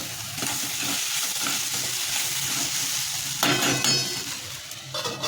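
Potatoes frying and sizzling in hot oil with chilli, finely chopped onion and turmeric for a Maharashtrian methi batata bhaji, a steady close crackle with a few stirring scrapes and a brief louder burst near the end.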